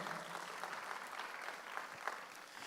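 Congregation clapping during a Sunday worship service at a church in Incheon, a steady broadband patter of many hands lasting the whole moment, moderately distant and fairly soft.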